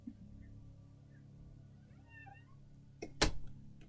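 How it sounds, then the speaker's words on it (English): A house cat meows faintly in the room during a gaming session, a brief soft call partway through, followed by a louder broadband clatter near the end. "I think I hear a cat."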